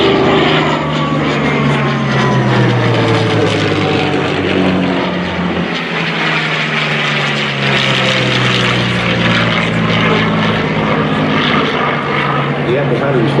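A Yak-3 warbird propeller aircraft drones steadily and loudly during a warbird air show, its engine tone rising and falling as it passes, with a voice talking over it.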